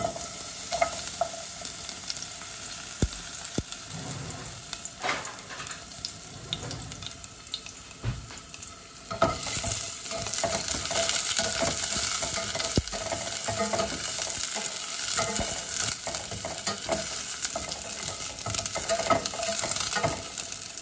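Garlic fries in cooking oil, a dense crackling sizzle with scattered clatters and scraping stirs, growing fuller and louder in the second half.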